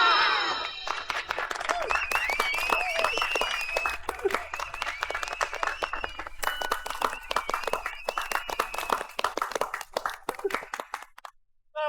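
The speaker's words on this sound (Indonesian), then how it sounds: "Tepuk semangat." A group of children performs a rhythmic spirit clap with quick patterned clapping, mixed with shouting and playful voices, then stops abruptly.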